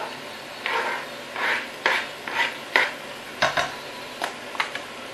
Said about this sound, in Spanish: Y vamos a seguir removiendo.